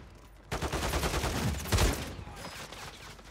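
Gunfire in the video game Warzone 3, a rapid burst of automatic shots starting abruptly after a short quiet moment, loud and dense at first and then tapering off.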